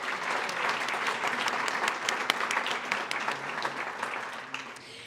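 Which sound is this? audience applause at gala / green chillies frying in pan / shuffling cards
audience applause at gala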